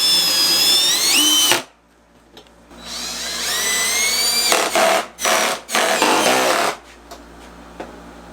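A power drill drives screws into a neon sign in loud, close bursts of rising whine, a long run followed by several short spurts with brief silences between.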